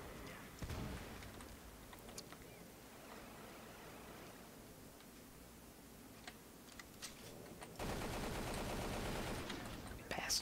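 Gunfire in the shooter game Doom, a run of rapid sharp shots and blasts over a steady game-sound bed, growing louder near the end.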